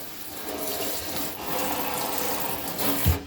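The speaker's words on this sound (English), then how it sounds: "Sprayer, it's actually the first time I've turned it on. Sprayer works good." A kitchen sink sprayer runs in a steady rushing hiss of water, close and moderately loud, ending with a brief clunk.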